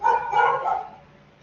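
Dogs barking somewhere inside a house, a short burst of yapping barks lasting about a second, moderately loud, then fading out.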